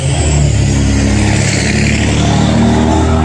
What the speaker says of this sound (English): Let that truck go by.